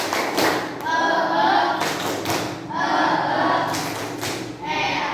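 A school class performs a rhythmic group clap routine, with sharp bursts of clapping in a patterned beat alternating with children's voices chanting together, close and lively in a classroom.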